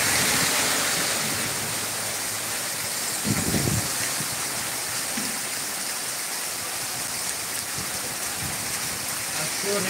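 Steady hiss of rain falling in Rajshahi, Bangladesh, a soft, even wash with a brief low thump and faint voices in the background.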